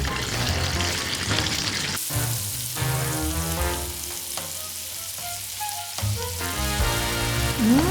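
Chicken hits a hot pan with onions and sizzles loudly, crackling steadily up close while a utensil clinks and scrapes now and then.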